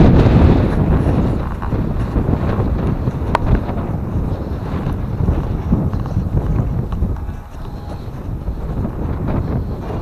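Strong wind gusts roar across an open outdoor property on a warm day, a steady close rumble buffeting the microphone with no speech.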